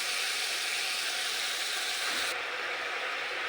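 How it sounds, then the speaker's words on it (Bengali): Gravy for stuffed pointed gourd (kankrol) bubbling in a pan after a little water is added to fried spices, a steady close hiss and sizzle that continues without pause and eases slightly toward the end. "ঝোলটা খুব ভালোভাবে ফুটে গেছে"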